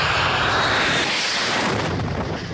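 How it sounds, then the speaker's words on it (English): A cargo airplane makes a super low pass, a loud, continuous engine roar that fills the whole stretch and cuts off abruptly at the end. "Did you see that super low pass?"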